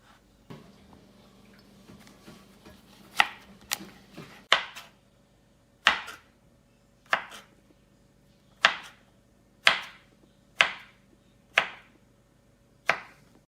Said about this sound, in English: And then I cut these in half.